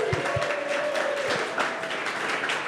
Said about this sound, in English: let's take a minute to step back and give a round of applause for the presenters earlier